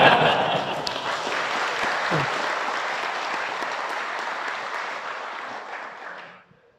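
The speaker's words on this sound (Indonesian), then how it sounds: "Kenapa jadi tepuk tangan begitu?" An audience at an Islamic religious lecture claps in a thick, steady burst of applause that lasts several seconds before tapering off into silence.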